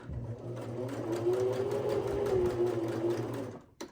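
A sewing machine backstitches coiled rope to form a rope bowl, whirring steadily for a few seconds before stopping with a small click.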